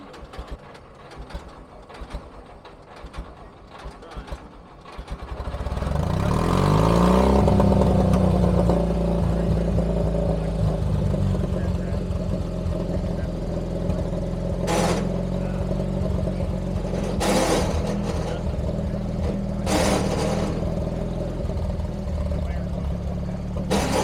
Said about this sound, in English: the gas motor that starts the big motor.